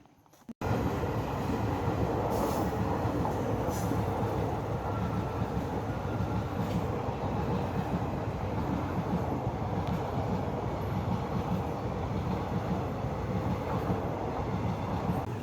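A train rumbles past close by at a railway level crossing at night, a loud, steady roar of wheels and rail noise that starts abruptly and continues without letup.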